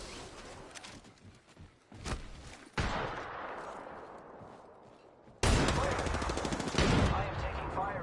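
Bursts of video-game gunfire in Apex Legends crack out in several loud volleys, the last and heaviest sustained for a few seconds, with sporadic quieter shots between.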